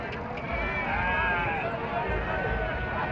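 Sheep bleat at a busy livestock market, drawn-out calls rising over a constant crowd murmur and nearby voices.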